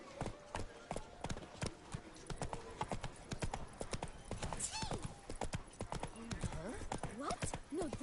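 Horse hooves clip-clopping at a steady trot in The Witcher video game, close and rhythmic, with a couple of snorts or whinnies and a voice speaking over parts of it.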